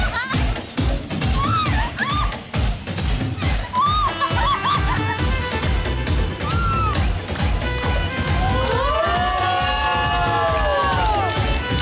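Loud studio audience cheering and applauding at a comedy show as a twin little sister named Putki is welcomed on stage, steady crowd noise throughout with music and voices mixed in.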